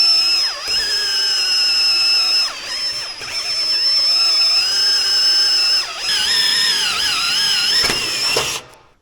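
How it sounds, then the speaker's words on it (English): Power drill boring into a Ford F450 truck frame with cutting oil: a continuous high whining drill tone that dips briefly under load several times, loud and close, then stops. "I finished drilling that"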